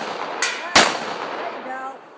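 Two sharp gunshots outdoors, a lighter crack followed a moment later by a louder, heavier blast that rings out and fades.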